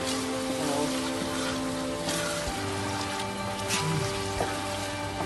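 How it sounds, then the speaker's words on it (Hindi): Tomatoes sizzle and fry in a large pot of masala for a big batch of Pakistani chicken pulao, a steady, dense crackle with no talking over it. "ये जी अभी टमाटर डाल दिए इसमें और इसको थोड़ा सा भूनेंगे।"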